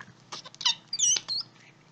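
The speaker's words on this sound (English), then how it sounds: "Do you hear that squeak?" Slime being squeezed and played with in the hand gives a few short, high-pitched squeaks and wet squelches, close and fairly clear against a quiet background.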